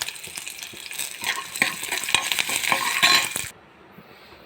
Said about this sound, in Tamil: நல்லா வதக்கணும். பிறகு சிறிதளவு எண்ணெய் ஊற்றி பூண்டு, இஞ்சி சேர்த்து